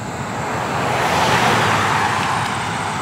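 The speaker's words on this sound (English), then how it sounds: "There's a car coming." On a quiet back road, a car approaches and passes, its tyre and engine roar swelling to a broad peak midway and easing slightly, fairly close and fairly loud with nothing else over it.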